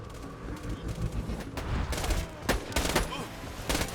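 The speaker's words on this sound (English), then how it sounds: "So many bullets." Sustained gunfire in Borderlands 2 during a wave fight, repeated sharp shots and bursts over a busy battle background, moderately loud and continuous.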